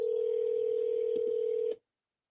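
A phone emits a single steady dialing tone for almost two seconds, fairly quiet and clear, then cuts off into silence.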